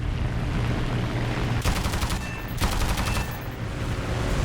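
Twin machine guns of a Fiat CR.32 biplane fire in War Thunder, two sharp rattling bursts about a second long each, loud and close over a steady droning engine, with no talk.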